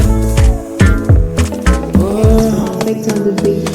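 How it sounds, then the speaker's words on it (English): Sung vocals with Auto-Tune retune speed set to 1, a stepped, robotic pitch correction over a backing beat and keys, the voice snapping between notes in a heavily processed warble. "if you put it up to 1, that means your Autotune is going to sound like this."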